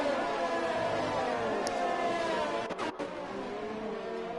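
Formula 1 race cars in a video game at Bahrain, the AlphaTauri among them, keep up a continuous high engine whine that rises and falls with gear changes, moderately loud and close, with a brief dip near the end.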